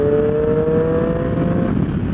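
Triumph Street Triple R motorcycle engine pulling hard as the throttle is whipped open in fourth gear around 5,000 RPM on the street, a loud steady engine roar with a rising harmonic whine throughout, no talking.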